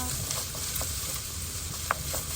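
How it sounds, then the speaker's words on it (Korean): Garlic and sliced potatoes stir-fry in a pan, giving a quiet continuous sizzle with soft scrapes and a few brief clinks from stirring, no talking. "저는 마늘을 먼저 좀 볶아줄게요. 여기에다가 감자 썰어놓은 거를 넣어주겠습니다."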